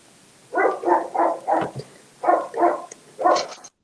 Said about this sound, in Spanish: Hay un perro ladrando.